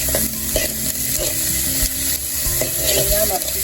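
Bell peppers frying and being stirred in a pan, a steady close sizzle with scraping stir strokes throughout.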